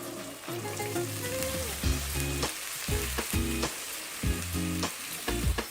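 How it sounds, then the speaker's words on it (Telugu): Boiled chickpeas frying in a pan for a chickpea fry, stirred with steady sizzling and repeated scraping strokes of a spoon against the pan, loud and close with no talking. "ముందుగా మనం బాయిల్ చేసి పెట్టుకున్నాం కదా శనగలు, ఇప్పుడు అవి వేసుకుందాం."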